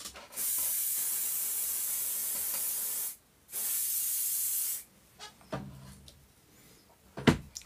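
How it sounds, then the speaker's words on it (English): Hairspray from an aerosol can hisses in two long, steady blasts with a short break between them as it is sprayed onto model foliage, followed by quiet handling clatter. "I'm going to give it a blast with the hairspray"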